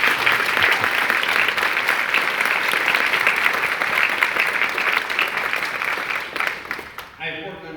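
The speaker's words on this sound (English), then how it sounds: "please show your appreciation and give her a round of applause." An audience at a retirement farewell gathering breaks into sustained clapping, a dense close wash that holds steady for several seconds before tapering off abruptly at the end.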